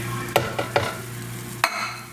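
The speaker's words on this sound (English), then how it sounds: "I'm gonna put my diced tomatoes" Diced tomatoes are stirred in a pan with a few sharp scraping clacks of a spoon over a soft steady sizzle, close up with no talk.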